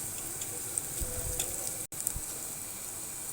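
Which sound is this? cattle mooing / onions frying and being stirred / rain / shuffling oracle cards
onions frying and being stirred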